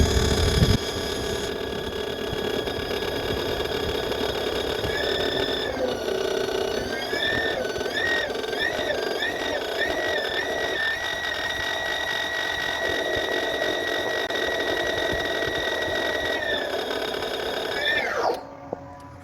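A CNC machine running a cutting cycle gives off a steady whine, its pitch rising and warbling as the spindle and axes move, then drops away abruptly near the end; a faint mechanical hum sits underneath.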